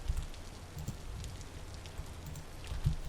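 Steady patter of rain in the Vintage Story video game, a soft continuous hiss with low drumming and a few louder drops, with no voices.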